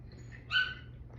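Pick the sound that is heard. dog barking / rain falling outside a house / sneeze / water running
dog barking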